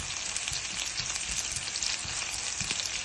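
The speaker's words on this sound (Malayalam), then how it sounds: "ഇത് മൂത്ത് വരുമ്പോൾ ഞാൻ എല്ലാ പൊടികളും കുറേശ്ശെ ഒന്നുകൂടി ചേർത്ത് മൂപ്പിച്ചെടുത്തിട്ടാണ് സാമ്പാറിൽ ചേർക്കുന്നത്" Spice powders roast in a hot pan for sambar, crackling in a dense, continuous close-up sizzle with faint stirring scrapes and no voices.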